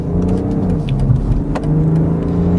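A BMW X7 30d SUV engine revs up and down steadily in sport mode at close range, a continuous mid-pitched motor drone with rising pitch sweeps and no voices.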